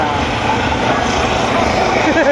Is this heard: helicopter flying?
yes